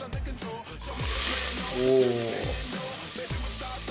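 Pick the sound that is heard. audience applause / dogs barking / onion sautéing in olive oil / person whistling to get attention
onion sautéing in olive oil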